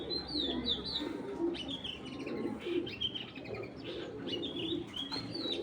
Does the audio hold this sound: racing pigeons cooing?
yes